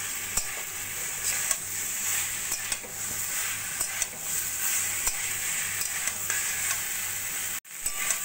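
Cauliflower florets being sautéed with potatoes and poppy seed paste in a pan for a vegetarian Bengali dish, giving a steady, close sizzle with scattered stirring scrapes and ticks that stops briefly near the end.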